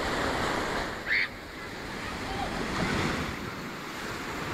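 Sea waves at Redi beach in Vengurla wash steadily onto the shore with wind noise on the microphone, a continuous broad surf roar with a swell building near the end.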